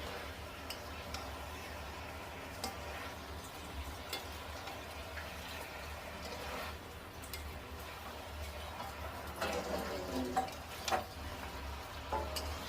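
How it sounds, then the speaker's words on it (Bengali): Chicken being stirred with turmeric for a spicy desi curry, soft scraping and faint clicking of a spoon in the pot under a steady low hum, with a few louder knocks near the end. "ভালো করে নেড়ে চেড়ে নিচ্ছি"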